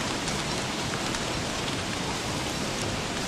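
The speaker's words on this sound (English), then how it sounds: "You can see everything's waterlogged because there's so much rain" Steady, dense rain falls continuously in the video game Don't Starve, a loud, even hiss with no talk over it.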